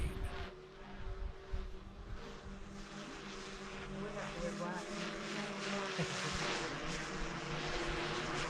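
A camera drone climbing above a house roof on Swans Island, Maine, a steady buzzing propeller whine with some wind, under a voice talking nearby.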